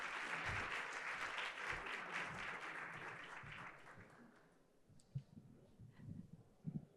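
An audience applauds a speaker at a finance panel event, a dense burst of clapping that fades out over several seconds, leaving scattered handling noises and faint murmurs.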